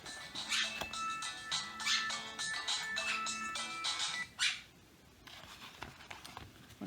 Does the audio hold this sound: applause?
no